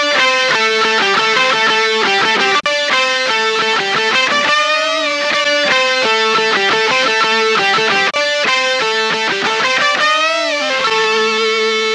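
A guitar solo played through a lofi delay with the input driven for extra saturation, sustained distorted melodic notes with bends and echoing repeats, loud and continuous with no talk.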